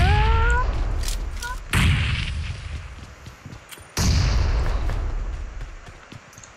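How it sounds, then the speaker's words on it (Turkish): Heavy booming explosions from red zone bombardment in PUBG Mobile, two big blasts with long rumbling tails, opening over a fading in-game whistle tone and a faint voice. "Bomba geldi."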